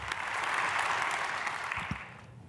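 A church congregation at a Sunday worship service in Korea bursts into warm, steady applause that fills the room, then tapers off quickly, with no voices over it.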